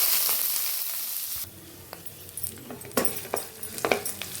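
Onions fry in hot oil with mustard seeds, cumin and green chillies for an eggplant and pea curry. A loud, dense sizzle drops to a quieter crackle after about a second and a half, then scattered clinks and pops follow.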